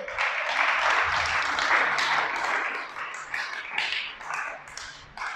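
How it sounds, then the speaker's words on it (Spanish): A crowd at a Torah teaching session claps steadily for several seconds, a dense, continuous patter of many hands that gradually thins out toward the end. "Dale un aplauso al creador."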